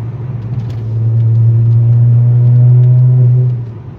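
A VW Golf 4 V6 24-valve 4motion accelerating in sixth gear, its engine a steady, loud low drone that swells and holds for several seconds before easing off, heard from inside the car with no talk.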